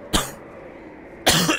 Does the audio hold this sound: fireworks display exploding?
no